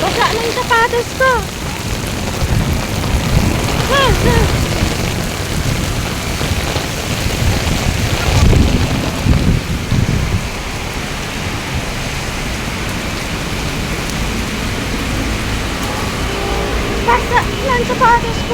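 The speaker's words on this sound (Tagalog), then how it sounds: "Lakas ang ulan, no? May kasama kang kulog." Heavy rain pours steadily and loudly with low thunder rumbling through it and a few passing surges. Someone speaks briefly over the downpour.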